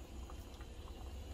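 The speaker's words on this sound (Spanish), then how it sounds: "Vamos a esperar a que estén hirviendo muy bien para que se agarren el saborcito de la manteca y todo." Beans simmer in a pot with lard and chile, a faint, steady low bubbling with occasional soft pops, heard alone.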